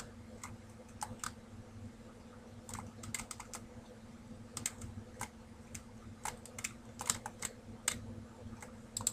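Irregular keyboard typing in short bursts of separate clicks, fairly close and moderately loud over a steady low hum, with no voices.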